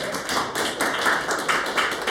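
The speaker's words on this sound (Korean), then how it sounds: "박수 한번 주세요." Audience clapping at a talk, a steady patter of many hands filling the short stretch at moderate loudness with no voices over it.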